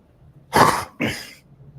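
Two harsh coughs in quick succession, close and fairly loud, with quiet before and after.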